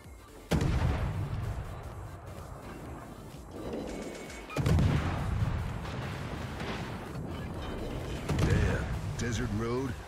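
Naval guns on a Tier IX German destroyer, the Z-46, fire in World of Warships, with three heavy booming salvos spaced a few seconds apart, each trailing a rumbling decay, and someone talking between the shots.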